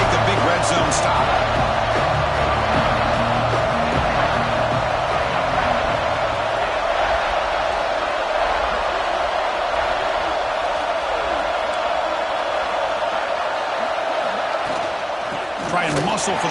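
A loud football stadium crowd roars steadily for a red-zone defensive stand in an Illinois game, a dense, sustained wall of noise with a commentator's voice running over it.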